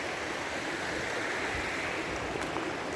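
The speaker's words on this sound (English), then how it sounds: "this stream will eventually empty out into the Cedar Creek Lake, or reservoir, more or less" A stream near Horseshoe Falls flows toward Cedar Creek Lake, a steady broadband rush of water that stays even and full for the whole stretch, with no voices over it.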